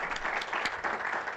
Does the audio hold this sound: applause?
yes